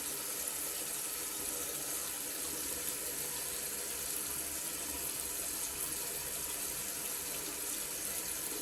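Running tap water rinsing a skin product off, a steady, continuous splashing stream close by that holds at an even level throughout, with no talking.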